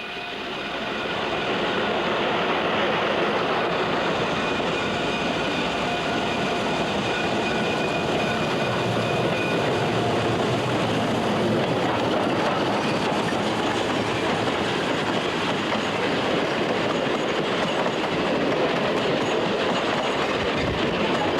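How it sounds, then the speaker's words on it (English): A train rolls steadily at speed along level track above Clark's Summit, Pennsylvania, a continuous loud rumble with faint rhythmic wheel clatter, no voices. "Rolling quickly on level track above Clark's summit, the trains headed for the tunnel above Factoryville."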